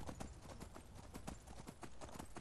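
Horse hooves clip-clopping in Skyrim VR, a black horse's steady, rapid hoofbeats repeating close and loud throughout with no talk over them.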